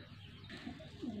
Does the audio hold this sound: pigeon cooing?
yes